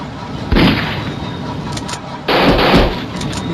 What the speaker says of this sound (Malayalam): അയ്യോ, എവിടെ നിന്നപ്പോ വെടി വരുന്നു.